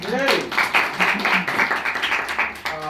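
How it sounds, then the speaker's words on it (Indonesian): A classroom group claps during a microteaching lesson, producing a quick run of light, fairly rhythmic claps of moderate loudness, with a voice briefly audible at the start and end. "Tepuk tangan."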